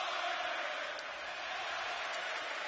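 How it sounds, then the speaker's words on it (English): A packed basketball arena crowd roars continuously in a dense, loud wall of cheering at an NBA playoff game between the Warriors and Mavericks, with no single voice standing out. "Listen to this crowd."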